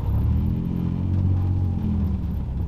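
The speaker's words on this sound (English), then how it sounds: "I'm pretty sure my muffler's broken" A car engine with a broken, cracked muffler rumbles at idle, a loud, deep, continuous throaty drone heard up close with no talking.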